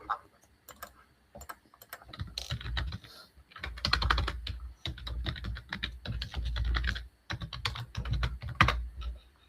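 A long password tapped out on a computer keyboard while connecting to a LoRaWAN gateway's web interface: close, quick keystroke clicks in uneven bursts separated by short pauses.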